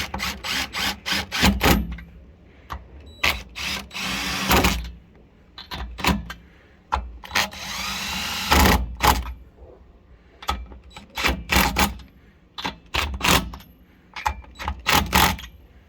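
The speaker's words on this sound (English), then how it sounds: "pop a couple of these lug nuts on." Metal lug nuts clink and rattle as they are threaded onto a bed-mounted spare tire carrier in a 2021 Chevrolet Silverado 2500HD Duramax diesel, with a series of sharp, close metallic taps and jangles in irregular bursts, no talking.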